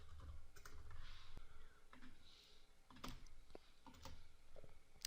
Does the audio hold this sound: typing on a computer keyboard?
yes